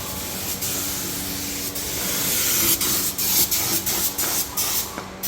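A paint spray pump sprays paint in a workshop, making a steady loud broadband hiss that pulses in short regular bursts toward the end, with no talking.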